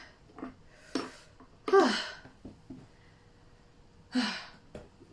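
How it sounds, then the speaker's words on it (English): A person sneezes indoors in a soft, breathy burst, followed later by another sharp exhale, quiet and close, with faint breaths and small noises between them. "I just needed to sneeze right there"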